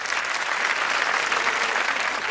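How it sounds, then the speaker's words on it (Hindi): A studio audience at a televised family game show breaks into loud, sustained applause, a dense, even patter of many hands clapping with no speech over it. "जोरदार ताली आपके लिए।"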